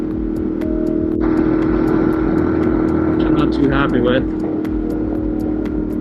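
A Ducati motorcycle rides through Manhattan, its exhaust a steady, loud rumbling drone with wind noise, while the rider talks over it.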